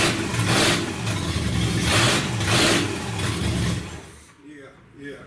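A 1979 Limited car engine with its exhaust completely unhooked revs loudly and up close, surging and easing in several repeated pulses before dropping off near the end.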